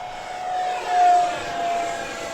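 An Arrows RC 50mm T-33 model jet flies a pass with its electric ducted fan, a high whine rising and fading as the hand-launched plane sweeps by nearby.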